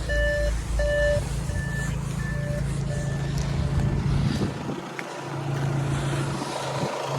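Warning chimes in an Audi A6 for an unfastened seatbelt and an open door: a short run of evenly spaced electronic beeps that fade after a few seconds, over a low cabin rumble.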